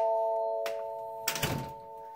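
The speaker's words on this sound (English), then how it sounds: "we have a door chime, so it's pretty loud too" A home doorbell chime rings with a sustained tone, followed by a brief burst of clatter, heard fairly close in a quiet house.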